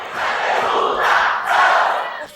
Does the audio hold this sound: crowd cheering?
yes